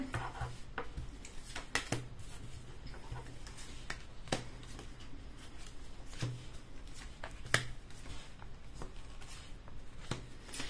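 Tarot cards laid out one by one for a love reading, making soft scattered flicks, slaps and shuffling taps against a quiet background of low hum.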